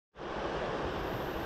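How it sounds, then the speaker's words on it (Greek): Running water of a stream just below the speaker's position, a steady broadband rushing that starts abruptly and continues evenly, close and fairly loud, with no voices. "Τα τρεχούμενα νερά ήδη τα είδαμε, είναι ακριβώς από εδώ κάτω στο ρέμα."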